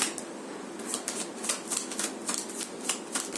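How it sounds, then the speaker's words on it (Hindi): Tarot cards being shuffled by hand, a quick run of soft riffling flicks and papery snaps in an uneven rhythm, close up and alone with no voices. "ये सेकंड शफल है मेरा,"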